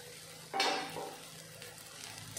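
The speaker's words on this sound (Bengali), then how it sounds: "এখন ভালো করে নেড়ে চেড়ে আমি ভেজে নেব।" Taro stolons fry in a pan with a steady sizzle that swells into a louder hiss as they are stirred and turned, with light utensil scrapes against the pan.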